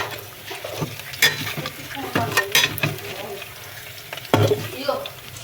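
Green chillies fry in a pan with a soft, steady sizzle, broken by repeated scraping strokes of a spoon as they are stirred, with some talk in the background.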